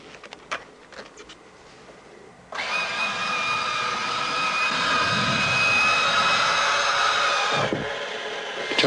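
An F-16C fighter's jet engine starts up: a few faint clicks, then a sudden loud, steady whine that rises to a sustained roar and holds for several seconds, close and alone.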